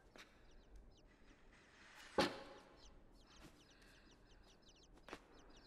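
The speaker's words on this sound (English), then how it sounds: "I hear more baby chicks." Chickens cluck softly in the video game Inside, faint scattered chirps and clucks over a quiet background, broken by one sharp thump partway through.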